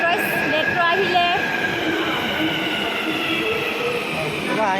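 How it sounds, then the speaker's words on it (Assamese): A metro train pulls into a station in Hyderabad, its steady rumble and squealing wheels filling the platform continuously, close and loud, with people talking faintly beneath it. "এইফালে ঘূৰি এয়া মেট্ৰ' আহিলে।"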